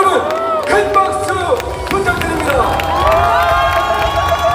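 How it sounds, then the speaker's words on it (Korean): A crowd at a Democratic Party convention cheers and applauds, loud and close, with shouting voices rising and falling over a continuous bed of clapping. "여러분, 큰 박수"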